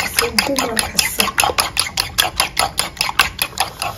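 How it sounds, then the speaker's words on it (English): Eggs being beaten with salt for egg sauce, a quick, regular run of sharp clicking strokes of a utensil against a bowl, close and steady, about four or five beats per second. "You beat it together."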